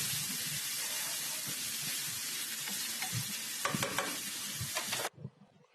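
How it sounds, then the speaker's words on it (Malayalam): Chopped tomatoes stirred in a hot cooking pan, with a continuous sizzle and hiss under scraping strokes of the spoon that grow busier near the end before the sound cuts off abruptly. "അതും കൂടെ ചേർത്തിട്ട് നന്നായിട്ടൊന്ന് മിക്സ് ചെയ്തതിന് ശേഷം നമ്മളിതൊന്ന് മൂടി വെച്ചൊന്ന് വേവിക്കുകയാണ്"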